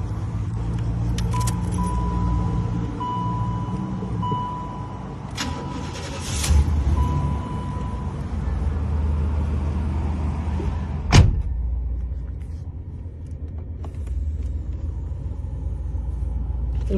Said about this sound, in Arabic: طيب يشغل الموتر الآن وناخذ فرة فيه.